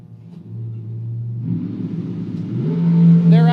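Drag race cars launch off the line at a memorial drag race, engines building from a low idle rumble into a loud, rising roar that swells in the final second, close and without voices over it.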